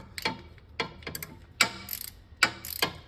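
A hand ratchet clicks in several short bursts while tightening a bolt on a 2010 Audi Q5 during a crankshaft position sensor replacement, each sharp close-up pawl rattle separated by brief pauses, with no speech.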